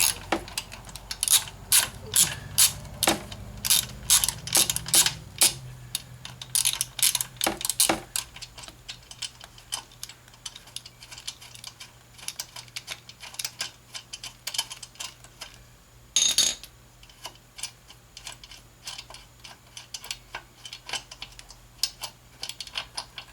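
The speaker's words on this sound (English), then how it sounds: "So I just need to unbolt this bolt here, disconnect the terminals, and go ahead and replace it" Ratchet on a 13mm socket loosening the battery bolt in a Saturn Sky, heard as rapid close clicking in bursts early on, then sparse scattered ticks and one brief burst later, with faint background noise.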